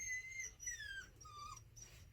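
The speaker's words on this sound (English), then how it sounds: "My dog is whining." A dog whines in high, thin drawn-out tones, several sliding whimpers in a row over a low steady background rumble.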